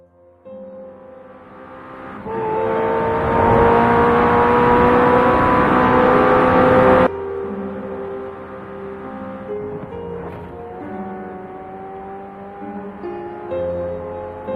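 A car driving in a VRChat film, its engine rising from a low hum into a loud, sustained rev and roar that cuts off abruptly, then continues as a steadier, lower drone.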